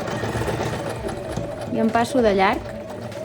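A sewing machine stitches a fabric dart in quick mechanical bursts, whirring loudest near the end while someone speaks over it.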